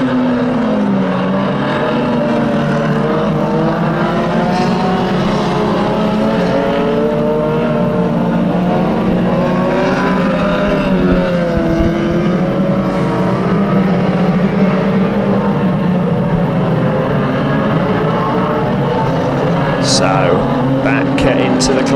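Banger racing cars at Kings Lynn roaring continuously around the track, a loud sustained engine drone with revving swells, under a commentator's constant talk.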